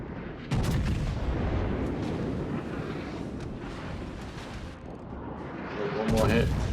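Heavy naval gunfire in World of Warships from the battleship Mikasa: a booming salvo at the start, a rolling rumble of shots and impacts, then another loud blast near the end.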